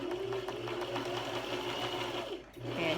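Sewing machine stitching fabric for face masks, its motor running in a steady continuous whir with slight rhythmic pulsing, close and loud, briefly slowing near the end before speeding up again.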